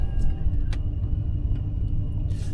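A 2004 Mercury Marauder rumbles low and steady as it eases away, engine throbbing gently with a few faint clicks and no talk.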